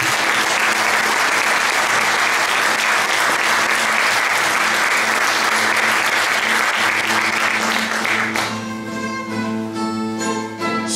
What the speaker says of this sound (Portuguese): deem palmas aos tocadores